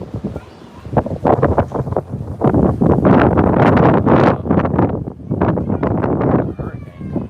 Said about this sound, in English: Got a little gust of wind coming through.